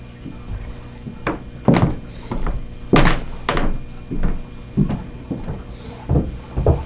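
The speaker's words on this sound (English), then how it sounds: "that clunking noise you hear is his boots on the hardwood floor upstairs" Heavy boots clunk across a hardwood floor upstairs, a series of irregular dull thumps of varying strength spread through the clip, muffled and coming from overhead.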